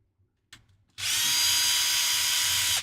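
A power drill driving out screws gives a short click and rattle, then a loud, steady high-pitched whir up close that runs without a break.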